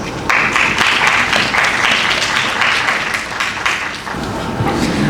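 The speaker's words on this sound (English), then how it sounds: "Please give them a huge round of applause." A large audience at a mushroom industry summit breaks into sustained, dense applause for presenters called up on stage, the clapping steady and loud throughout with a slight dip near the end.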